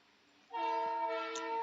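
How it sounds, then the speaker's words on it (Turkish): A passing train heard from a distance, a steady tonal horn-like drone swelling in after a quiet moment and holding loud to the end. "Şimdi tren geçiyor arkadaşlar."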